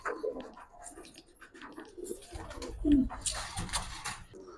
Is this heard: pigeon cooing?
yes